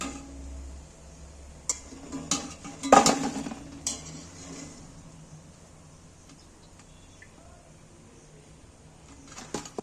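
A metal slotted spoon clinks and scrapes against a pan as fried aloo chops are lifted from hot oil. A cluster of sharp clatters comes midway over a faint background hiss, then a few light taps at the end.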